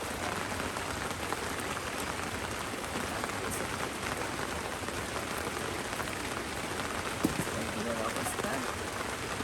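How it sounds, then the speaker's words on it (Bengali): Heavy downpour in a rural village pours steadily onto roofs and ground, a dense, unbroken roar of rain close by for the whole stretch with a single brief knock. "একদিকে মুষলধারে বৃষ্টি হচ্ছে"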